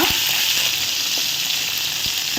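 Onion, green chili, curry leaves and garlic frying in hot oil for a sardine fish curry, a steady close sizzle and crackle with a few faint stirring knocks, no talking.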